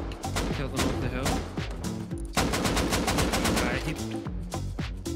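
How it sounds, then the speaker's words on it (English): Bursts of rapid automatic gunfire rattle nearly nonstop during a raid in the survival game Rust, loud and dense, with a voice talking underneath. "Yeah, gunfire."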